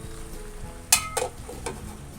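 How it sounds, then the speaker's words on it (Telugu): Fish cooking with ginger garlic paste in a pan, a soft sizzle under a couple of sharp clinks of a utensil against the pan, close and brief, with no talking. "నెక్స్ట్ ఇందులోనే మనం అల్లం వెల్లుల్లి పేస్ట్ వేసి 5 మినిట్స్ దీన్ని మగ్గించుకోవాలి"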